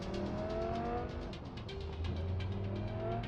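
A car driven in the video game Cyberpunk 2077, its engine droning steadily with rising revs throughout, loud and close with no voices over it.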